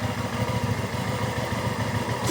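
A 2015 Hyosung ST7 700 motorcycle with low mileage idles nearby, its engine giving a steady, even pulsing throb that stays loud and constant throughout.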